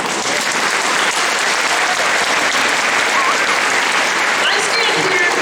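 An audience claps loudly and steadily at a women's suffrage day event at the Minnesota Capitol, a thick sustained roar of many hands with no break.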